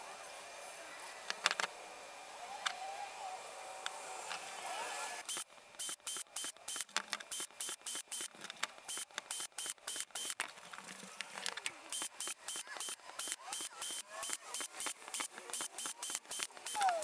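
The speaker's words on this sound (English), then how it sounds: "Now I'm gonna add some more holes around the rest of the pipe here." A drill bores extra holes around a pipe nozzle for a shop-vac aircrete foam generator. Short, sharp, close bursts repeat in a steady rapid rhythm after a quieter opening stretch, with brief gaps between them.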